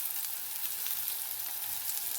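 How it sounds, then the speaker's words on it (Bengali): Eggplant frying in oil gives a short, even hiss of sizzling with light crackles, moderately quiet and without speech. "এরপর তেলের মধ্যে দিয়ে দেবো, বেগুনগুলো দিয়ে ভেজে নেব।"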